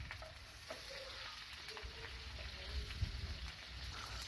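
Onion frying with ginger-garlic paste and chopped green chillies in a pan for a Bihari-style potato bharta, giving a steady, soft sizzle with faint stirring scrapes throughout and no talking.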